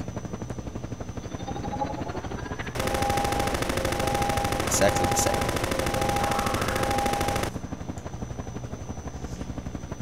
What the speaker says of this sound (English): next up is the Hunter Chopper. And yes, it's like the Half-Life 2 chopper.